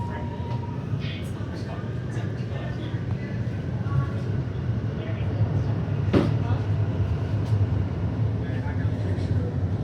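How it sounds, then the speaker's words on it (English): An HCMT train runs on the Melbourne City Loop line with a steady rumble and rail noise, passing brief clanks and squeals, and people talk under the sound. "this is the last train for the city loop on this line"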